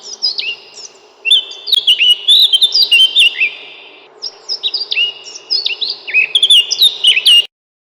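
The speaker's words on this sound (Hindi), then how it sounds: "तभी उड़ती हुई चिड़िया वहां आई और अपनी मधुर आवाज" A small bird sings a sweet, melodious song of rapid high chirps and trills in repeated phrases, loud and close, with no talk.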